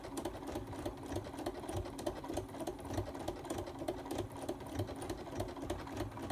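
Sewing machine stitching slowly in the ditch on a Santa pot holder, running at reduced speed with a steady, close, rapid mechanical clatter throughout.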